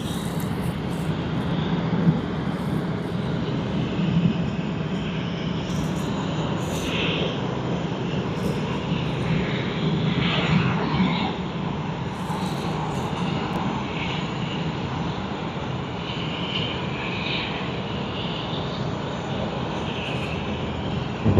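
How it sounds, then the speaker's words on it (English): A China Southern Airlines jet arriving at Sydney Airport makes a sustained, steady engine roar at moderate distance, with faint higher whines drifting in and out. "let's catch the arrival of China Southern Airlines"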